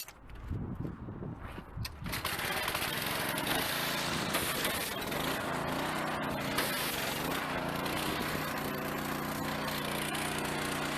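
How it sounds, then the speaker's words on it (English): A gasoline power washer starts and runs at work, a loud, steady engine hum with a hissing spray that kicks in after a couple of seconds of quieter handling noises and holds throughout. "Start the power washer."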